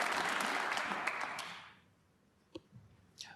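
Audience applause at a professional snooker quarter-final, a dense burst of clapping from a live crowd that fades out after about a second and a half, leaving a quiet hall with a few faint clicks.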